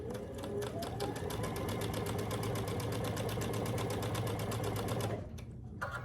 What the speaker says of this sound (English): So I'm going to sew that.